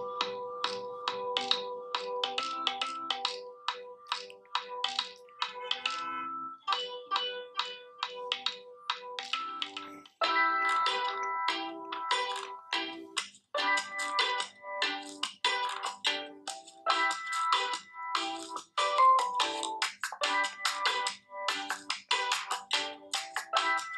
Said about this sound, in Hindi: तो चलिए अब प्ले कर देते हैं एक रिंगटोन को।